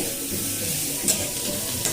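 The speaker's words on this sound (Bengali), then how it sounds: "এখানে গাজর, ক্যাপসিকাম আর বিনস সব ভাজা করছি।" Carrots, capsicum and beans stir-fry in a pan with a steady, close hiss of sizzling and occasional stirring scrapes and clicks.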